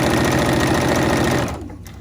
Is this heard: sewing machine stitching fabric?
yes